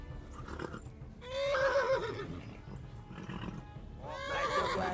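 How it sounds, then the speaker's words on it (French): A horse in the video game Kingdom Come Deliverance whinnies loudly in two drawn-out calls with a pause between them, set over steady background game noise and no talk. "Ouais, le cheval est pas content là."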